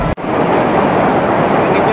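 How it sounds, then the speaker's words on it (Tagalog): Heavy rain pours down steadily as a dense, continuous roar close by, with one sharp thud near the start; no distinct repeated knocks stand out after it. "Hindi nyo ba yung lakas ng buhos ng ulan, mga kalabog?"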